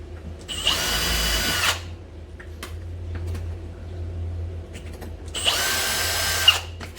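A power drill pre-drilling holes through a rubber door seal whirs in two short bursts, each about a second long, with a quiet pause between them.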